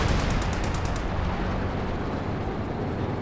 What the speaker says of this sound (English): the tanks take care of the AT gun. Outright destroy it.